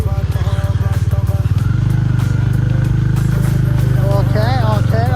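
A motorcycle engine idles with a steady rapid thump, then revs and pulls away in first gear, loud and close throughout, with a rising whine near the end and voices talking over it.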